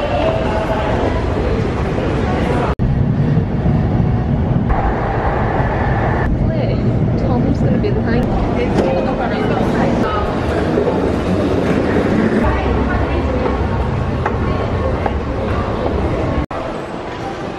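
A bullet train on the Tokyo to Osaka line pulls into a station, its loud steady rumble and clatter filling the platform throughout, with voices talking over it.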